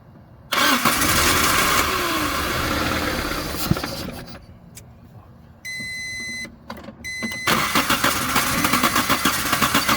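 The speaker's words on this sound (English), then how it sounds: "Start cranking it." A car engine cranks repeatedly without catching, loud and broadband, with the starter effort cutting in and out and short bursts of rapid cranking toward the end.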